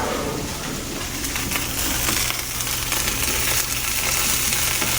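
Onions and peppers sizzle steadily in a hot skillet, a dense, even hiss of frying that stays loud and continuous throughout, with faint clinks and stirring noises underneath.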